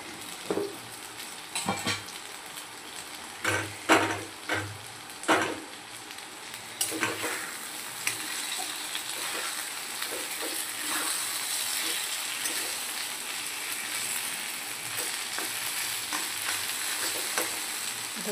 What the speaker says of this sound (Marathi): फुल गॅसवर आता आपण याला छान असं मोकळं करून हलवून घ्यायचं आहे